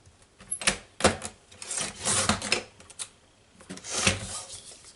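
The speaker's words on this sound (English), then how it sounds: "So I'm just going to trim down my picture to take off that white edge." Scissors trim the white edge off a paper picture for a floral postcard, giving a handful of close, crisp cutting and rustling strokes in uneven bursts.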